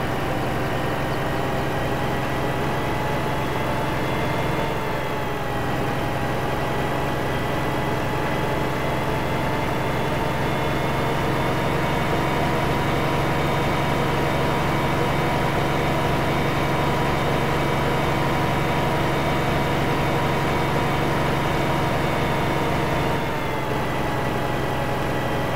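A tractor and combine harvester engine in Farming Simulator 15 drones on as a loud, steady hum that holds at an even pitch with only slight swells for the whole stretch.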